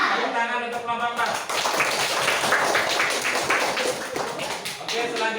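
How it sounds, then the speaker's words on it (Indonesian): A classroom of students claps for a group during a teaching-practice lesson. The tapping claps are steady and close, under a speaking voice, for the whole stretch. "Tepuk tangan untuk kelompok 4"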